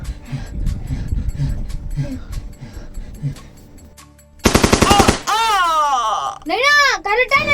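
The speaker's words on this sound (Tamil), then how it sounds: "அவன் மாத்தி மாத்தி சுட்டு நிக்கறாங்க" Rapid bursts of video-game gunfire crack out near the middle, following stretches of people talking and followed by more voices.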